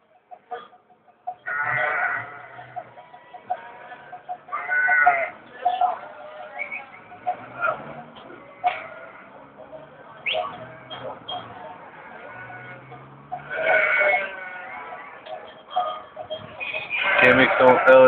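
A flock of sheep bleats on a city street in Shkodra, with scattered calls overlapping from near and farther away, while people talk in the background throughout.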